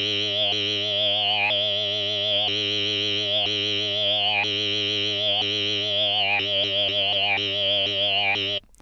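A sustained, buzzy synthesizer tone wobbles and growls in a dubstep style, its rhythmic pulsing continuing steadily before cutting off abruptly.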